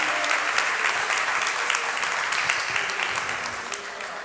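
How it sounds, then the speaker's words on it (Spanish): Congregation in a Spanish-language church service breaks into sustained applause, a loud, even roar of many hands clapping nearby that fades slightly toward the end, with faint voices underneath. "dele aplauso al Señor"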